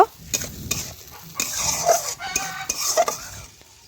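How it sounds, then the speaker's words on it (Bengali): Masala with water added is stirred and fried in a pan for a potato and catla fish curry: a moderate sizzle broken by repeated scraping and clanking strokes of a spoon against metal. "জল দিয়ে এইভাবে নাড়াচাড়া করতে করতে দেখুন আমি জলটা শুকিয়ে নেব"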